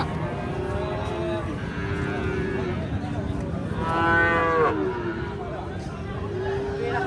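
A Friesian cow at a busy cattle market lows repeatedly, long drawn moos close by, with a louder call midway, while people talk in the background.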